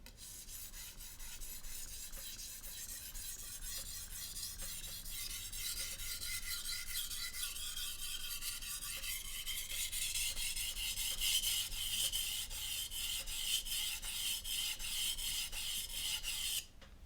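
A steel knife blade is drawn steadily across a sharpening stone, a continuous close scraping rasp that runs for the whole stretch at an even level without pauses or voices.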